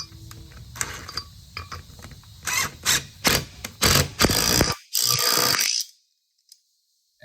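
A ratchet drives a fastener back into the same worn hole in base shoe trim, giving bursts of sharp clicking and rasping, close and loud, with brief pauses between strokes before everything goes quiet.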